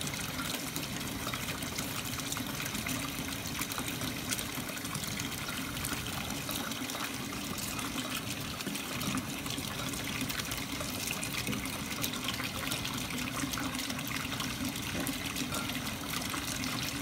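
Water rinsing salicylic acid crystals during filtration in a chemistry lab, a steady continuous trickling and gushing wash that runs without a break, fairly loud and close.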